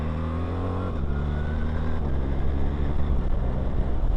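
A BMW R1300 GS motorcycle engine pulls hard and loud, its pitch climbing then dropping sharply with each quick-shifter upshift, two clean gear changes in quick succession.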